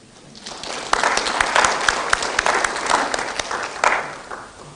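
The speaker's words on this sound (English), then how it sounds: "We need to clap for Gen Z." Applause from an audience at a Gen Z youth convention in Nairobi, swelling quickly from quiet into a full, sustained roar of clapping with sharp individual claps, then easing slightly but staying strong.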